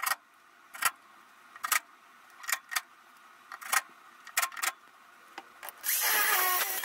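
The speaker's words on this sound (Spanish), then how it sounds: "ahora mismo les voy a meter los tornillos y estoy metiendo tornillos en el aluminio y en la madera" A power drill drives screws into aluminium and wood while building a drawer unit for a work van, in short separate whirring bursts spaced around a second apart, ending with a longer, louder grinding run.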